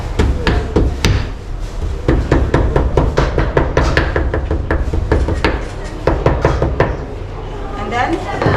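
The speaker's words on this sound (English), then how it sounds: "first we need to use a hammer to break the outer fibers of the slices." A hammer pounding slices of papyrus to break their outer fibers during a papyrus-making demonstration in Luxor, Egypt. The blows are rapid and sharp with irregular rhythm and come close up, with a voice talking underneath.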